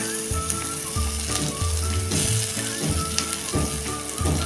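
Broken chunks of potato sizzle and fry in a pan for a yellow potato bhaji, a loud, continuous crackle with occasional scraping stirs.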